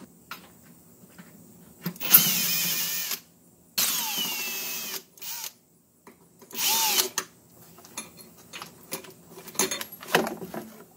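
A power drill backs out three screws holding the air breather to its brackets on a 2003 Toyota Camry, with several separate whirring bursts broken by short pauses, close by and fairly loud.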